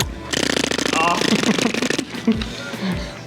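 A person performs a tongue-flapping mouth trick, a rapid buzzing flutter lasting about two seconds, loud and close, followed by brief laughter and voices.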